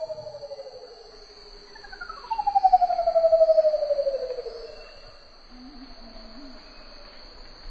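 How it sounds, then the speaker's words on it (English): Curl-crested manucode, a bird of paradise from islands off the eastern tip of New Guinea, gives one long, hollow, haunting call that slides downward in pitch. Softer notes come before and after it, over a steady insect drone. "one of the most haunting and intriguing vocalizations comes from the curl-crested manicote"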